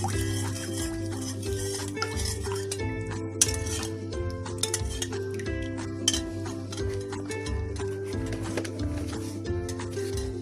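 Ingredients being stirred into a soft dough mixture in a bowl, with a steady run of clinking and scraping from utensil against the bowl, moderately close, over a constant low hum, with no talking.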